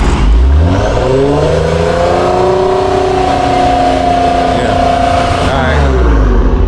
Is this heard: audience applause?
no